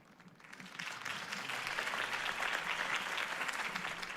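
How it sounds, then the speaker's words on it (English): A crowd applauds Harvey Dent's campaign speech in the Batman: The Telltale Series video game, with the clapping swelling up after a quiet start and then holding as a steady, fairly distant roar of hands. "could have heard that applause"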